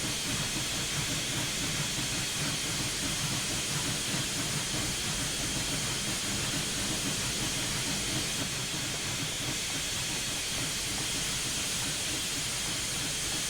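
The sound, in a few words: Union Pacific Big Boy steam locomotive exhaust beat, Train Simulator 2021 game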